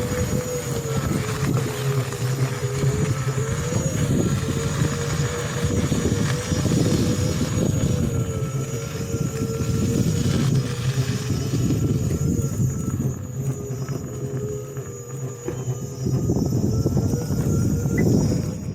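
Ola S1X Gen2 electric scooter hub motor making an abnormal whirring, jangling noise at low speed, a continuous droning hum that swells and fades through the ride, with no talking.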